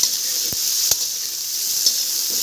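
Chicken with tomato and vegetables frying in a pan with panch phoron, Kashmiri chilli powder, garam masala and cumin powder, giving a loud steady sizzle broken by a couple of sharp stirring knocks.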